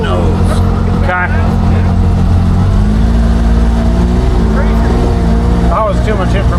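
A car driven in Sport mode on Halloween night, its engine droning loud and steady up close with rising revs and shifting pitch, while people talk over it inside.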